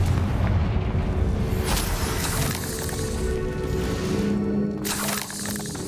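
Confringo fire spell blasts in Hogwarts Legacy, a dense, loud run of booming explosions with crackling bursts layered over game ambience, continuous for several seconds with brief pulses of sharper impacts.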